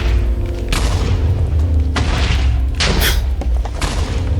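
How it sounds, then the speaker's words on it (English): Minecraft explosions blasting open a cave, several loud booming blasts in quick succession with deep rumbling tails and crackling debris. "You can see the explosions as they're taking place."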